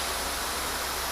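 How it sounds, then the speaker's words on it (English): A garden hose sprays water steadily onto a sealant-coated panel, giving a continuous dense hiss with no breaks and no voices. "While you're spraying the hose, it is just going."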